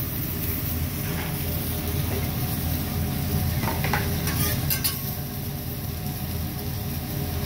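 Food sizzles and stirs on a Benihana teppanyaki griddle with garlic butter, a steady dense frying hiss throughout with a few brief scraping clinks of a spatula partway through, no voices.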